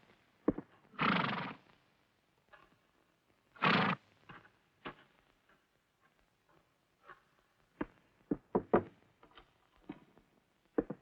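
Horses arrive with a group of soldiers in a Western setting, two loud whinnies ringing out close by, followed by scattered hoof clops and stamping in uneven bursts.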